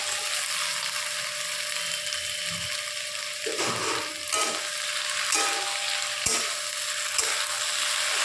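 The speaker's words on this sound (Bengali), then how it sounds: "এবার এর মধ্যে দিয়ে দেবে কেটে রাখা ভেন্ডিটা" Cut okra tipped into a pan of onions frying with ginger and garlic, giving a steady sizzle with a few soft stirring scrapes and clatters, close and fairly quiet.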